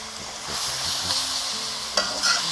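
Crispy frog and holy basil leaves stir-fried in a hot wok, a steady loud sizzle with scraping stirs and a couple of sharp clanks of the utensil, no talking.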